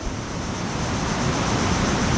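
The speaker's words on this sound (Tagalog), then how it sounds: "Tignan mo yung alon, no?" Waves on a rocky riverside spot next to a road rush in a loud, continuous roar of churning water and wind, heard close with no talking.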